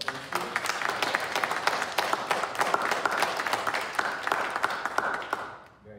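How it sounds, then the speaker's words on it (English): Steady audience applause for the horn students at a university horn studio recital, many hands clapping in a dense, even patter for several seconds before fading out at the end. "How about a round of applause for the horn team?"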